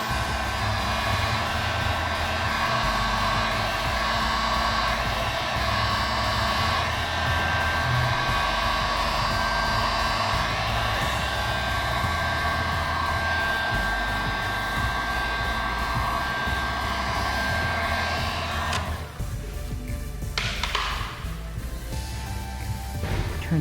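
A heat gun or hair dryer blows steadily and loudly while warming a Tesla trunk emblem, a continuous close whoosh lasting most of the span before cutting off near the end, with brief rustling afterward.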